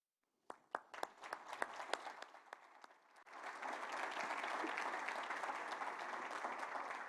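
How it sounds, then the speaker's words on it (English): An audience at an awards celebration breaks into applause, starting with a few scattered individual claps that swell after about three seconds into a dense, sustained round of clapping. "how about one last round of applause for all three?"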